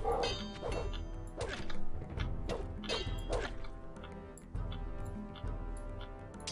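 A dog in the room gives a string of close, sharp barks and yips in an irregular rhythm for several seconds over steady background game noise.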